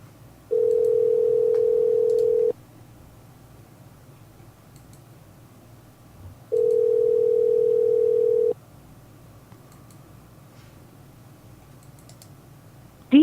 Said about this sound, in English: Oh, we're actually getting a ring.